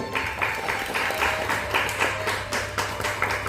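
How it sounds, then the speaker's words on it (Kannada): Audience applause at a Surya Kalotsava cultural event, following a sung performance of a composition: steady, dense clapping with rhythmic surges, moderately loud and close, with no speech over it. "ಚಪ್ಪಾಳೆ"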